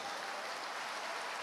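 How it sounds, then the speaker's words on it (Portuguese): A church congregation applauds in a steady wash of hand claps, faint and brief, with no voices over it. "aplauda a Deus."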